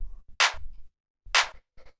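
Two crisp tech house clap hits from a percussion layer, each a bright burst of noise with short tails and faint low thumps around them, separated by brief silence.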